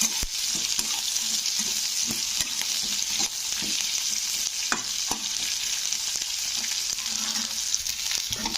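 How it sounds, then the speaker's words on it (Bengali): A large onion roasts and fries in a pan for a South Indian style egg curry, a constant close sizzle broken by frequent sharp stirring scrapes and taps, with no voices. "তো দেখো পেঁয়াজগুলো একটু ভাজা ভাজা হয়ে এসছে, বেশি কিন্তু ভাজা যাবে না।"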